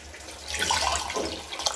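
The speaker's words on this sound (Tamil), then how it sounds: "3 கிளாஸ் அரிசி நான் 4 கிளாஸ் தண்ணி ஊற்றுறோம்." Water poured from a glass into soaked rice in a pot for mutton biryani, a steady splashing stream that swells and then runs on at close range with no voices.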